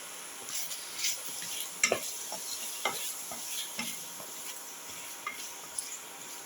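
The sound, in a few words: sautéing spices with chili powder in a pan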